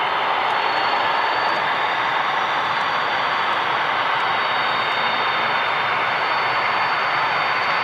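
A TUI Boeing 737 comes in to land at Manchester Airport, its engines a loud, steady roar that holds throughout with no talk over it.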